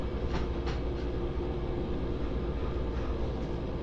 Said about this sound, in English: Oh, that was a very short speed train.